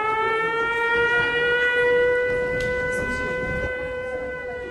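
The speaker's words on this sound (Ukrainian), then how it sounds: "оголошена повітряна тривога" An air raid siren wails steadily and loudly, a sustained rising-and-holding tone with strong harmonics and no talking over it.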